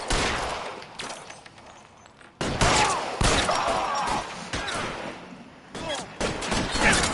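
Heavy video game gunfire crackles through a shootout on PS4, with dense rapid bursts and a short silence before the firing resumes, while voices talk over it.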